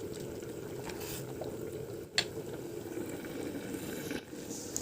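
Fish curry with salt, green chili, ginger and garlic simmering in a covered pot, a soft continuous bubbling hiss with a couple of brief clinks, quiet and close with no talking.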